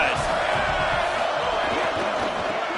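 A loud, dense stadium crowd at a football game roars continuously, a broad wash of cheering and shouting that stays steady throughout.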